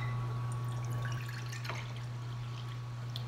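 Water, one and a half cups, poured into a bowl while preparing an easy microwave meal, giving a soft, steady trickle beneath a constant low electrical hum.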